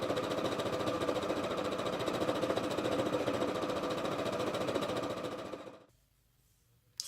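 A sewing machine runs a narrower stitch setting, its rapid, even mechanical chatter steady and close for about six seconds before winding down to a stop, then near silence.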